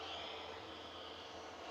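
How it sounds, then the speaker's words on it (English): A CF6-powered airliner pushing back at Manchester Airport gives off a steady broad engine roar with a whining tone, distant and even throughout, with no talking. "is pushing back, and I believe that is a CF6 powered aircraft"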